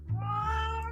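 A single cat gives one clear, close meow, a drawn-out tonal cry with a rising start and a falling tail.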